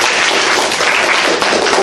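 Dense, loud audience applause and clapping at a live sidestage comedy show, a steady wash of many hands filling the full two seconds with no pauses.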